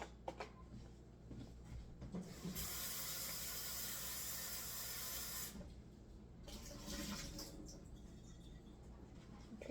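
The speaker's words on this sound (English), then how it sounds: "So I'm going to put some potatoes in a cup here and have them washed." Potatoes are washed in a cup under a running kitchen tap, with a steady rush of water for a few seconds, then quieter splashing and handling nearby.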